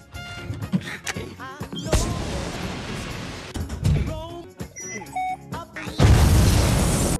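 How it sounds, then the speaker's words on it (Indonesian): Explosion aboard a spaceship in a Marvel superhero film featuring Star-Lord and Groot, the room blasted apart and holed; electronic beeps and tones give way to loud, deep booming bursts with rumbling debris, one near the start and a heavier one late. "Ia membuat ledakan. Ledakan tersebut membuat seisi ruangan pesawat itu hancur dan berlubang."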